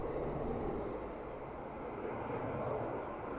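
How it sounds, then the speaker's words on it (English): An Aer Lingus Airbus A330 arriving from Rome at Dublin Airport, a faint, steady distant jet engine roar heard alone. "our Aer Lingus A330 from Rome is just coming into view now"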